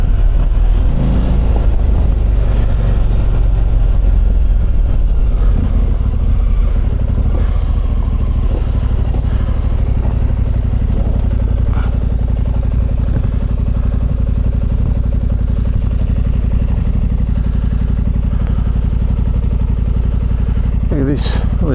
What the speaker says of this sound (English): we've got lots and lots of this up and down in a fire trail on a fully loaded big bike